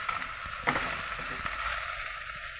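Ginger garlic paste frying in a pan for a red potato fish curry, a steady broad sizzle with a brief scrape of stirring near the start, close and continuous.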